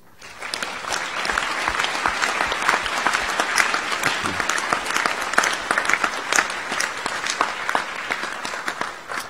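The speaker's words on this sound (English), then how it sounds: "show them your appreciation by a round of applause" A graduation-ceremony audience applauds at Monash Malaysia, dense steady clapping from many hands filling the hall at a fairly loud, even level throughout.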